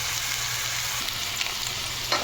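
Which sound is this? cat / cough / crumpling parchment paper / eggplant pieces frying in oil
eggplant pieces frying in oil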